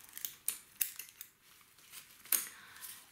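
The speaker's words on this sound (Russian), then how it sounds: "Обрезаю корни." Dry garlic roots are trimmed off the bulbs with scissors or shears, producing a few soft, crisp snips spaced irregularly, close but quiet.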